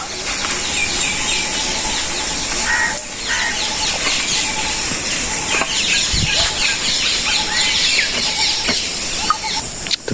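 Chickens cluck and chatter continuously nearby on a village farm after Cyclone Remal, amid a dense bed of high insect-like buzzing and outdoor noise.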